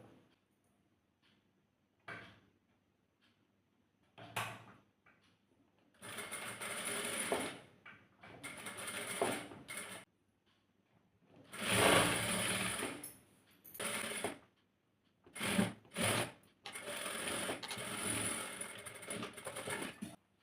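A sewing machine stitches the folded hem of a baby frock in short, quiet bursts of rapid mechanical clatter separated by pauses, with the runs growing longer and more frequent toward the end.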